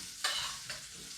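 Close, steady sizzling of steak in a hot pan, with two sharp bursts of spatter that rise over the continuous crackle.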